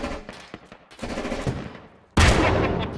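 Rapid bursts of gunfire in the military shooter game Squad, a rattle of several quick shots followed by a louder sustained burst of automatic fire close by, with no talk over it.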